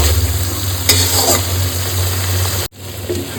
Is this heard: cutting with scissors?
no